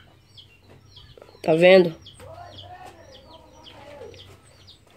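Chickens on a rural farm cluck, with a frizzle hen among them whose feathers curl the wrong way; a loud squawk stands out in the middle, shorter clucks follow, and birds chirp faintly in the background while a person speaks briefly.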